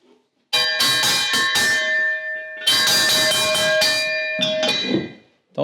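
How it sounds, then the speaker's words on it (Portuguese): An old bell on a historic farm ringing loud and close, two bursts of rapid clanging strikes with a long, bright metallic ring that hangs between hits before fading out. "com certeza esse badalado do sino ia longe"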